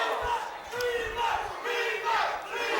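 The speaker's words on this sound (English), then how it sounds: "Cheering him on." A wrestling crowd at a rumble match cheers and chants in rising and falling waves of voices, loud and sustained, filling the arena.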